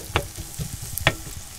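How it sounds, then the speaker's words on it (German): Onions frying in a hot pan, a soft, quiet crackle with a couple of short sharp sizzles or stirring clicks standing out over a faint background. "Langsam fangen die Zwiebeln in der Pfanne an zu tanzen. Das heißt, die Pfanne ist heiß genug."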